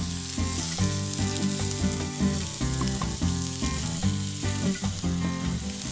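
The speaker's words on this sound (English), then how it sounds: "it's really crucial that you lay the overlapped part of the bacon on the griddle itself" Bacon-wrapped food sizzling steadily on a cast iron griddle, a loud continuous frying hiss with crackling pops throughout, close up and with no talking.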